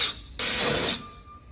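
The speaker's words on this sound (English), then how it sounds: "I'm just going to drill right through the silly putty" A power drill bores through silly putty into a car hood to make a hood pin hole, giving a short whirring burst after a brief lead-in hum, then a faint tone lingers.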